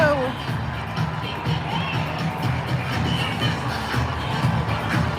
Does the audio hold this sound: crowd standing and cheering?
yes